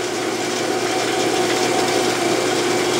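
Hand file rasping steadily across a rough cast lead flywheel, a continuous close, even scraping with no pauses and no voices.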